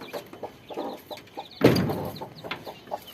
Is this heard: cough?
no